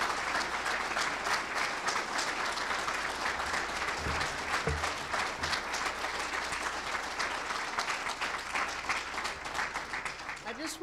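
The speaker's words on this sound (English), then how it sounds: "Please give yourself a round of applause." Steady audience applause at a 2015 mayoral candidates forum in Columbus, dense sustained clapping from a crowd held at an even level for about eleven seconds with a few louder nearby claps.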